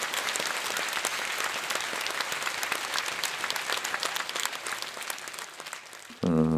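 An audience at a Buddhist spring dharma service in the National Assembly gives steady, full applause to welcome a party leader to the podium, dense clapping throughout before it abruptly gives way to a loud tone at the very end.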